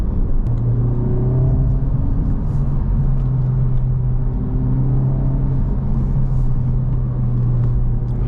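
A 2024 Honda Civic Type R FL5 engine hums and builds steadily under acceleration, with a sustained low drone and rising rev tones under constant road rumble heard from inside.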